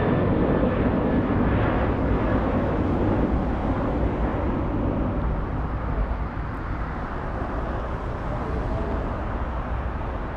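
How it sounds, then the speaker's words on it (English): A Singapore Airlines Boeing 777 airliner on its second landing attempt after a go-around, approaching runway 25 right at LAX: a loud, steady broadband jet roar that holds throughout and eases slightly near the end, with no talk. "Let's go for the 777. This one did a go-around a few minutes ago. This is the second attempt"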